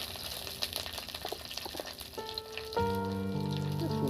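Eggplant pieces go into a hot pan of oil with drumstick stalks for Bengali shukto, giving a steady sizzle with stirring clatter, then a music bed with sustained tones rises in the latter half.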